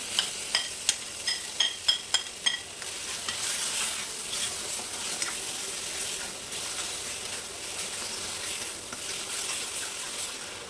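Cumin, two whole dried red chilies and masala hit hot oil for kadai paneer, giving a steady bright sizzle and crackle with a few sharp spluttering pops early on, close and alone.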